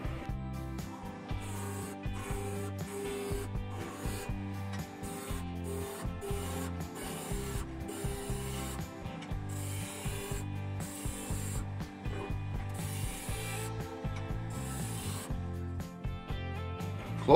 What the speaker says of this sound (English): First thing I'm going to do is round this over using my spindle gouge